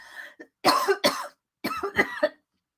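Several close, harsh coughs in two bursts, with brief pauses between them.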